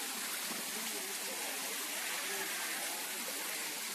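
Hot spring water from a volcanic source pours from a dragon spout into a pool at Air Panas Banjar in Bali, making a constant close-up rushing splash with no pauses.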